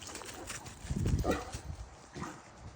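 A dog barks a few times in a backyard at night, short muffled bursts fairly far off and faint against quiet surroundings.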